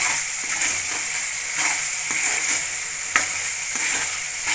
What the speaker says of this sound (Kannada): ನೀರೆಲ್ಲ ಡ್ರೈ ಆಗಿ ಬರೀ ಎಣ್ಣೆ ಉಳ್ಕೋಬೇಕು, ಅಲ್ಲಿ ತನಕ ಪುಳಿಯೋಗರೆ ಗೊಜ್ಜು ಹುರ್ಕೋಬೇಕು.